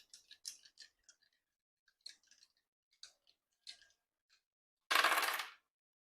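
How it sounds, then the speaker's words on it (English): Several small astro dice clatter and tick against a hard surface in scattered light taps, followed by one louder, sharp rattling burst near the end, all close and otherwise quiet. "So first I'll roll the astro dice for you."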